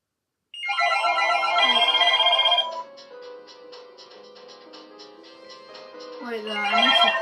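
A Panasonic KX-PRW120 cordless telephone rings with a bright electronic tone that sounds loudly for about two seconds. A softer pulsing ring pattern follows, then the louder ring returns near the end. No one speaks over it.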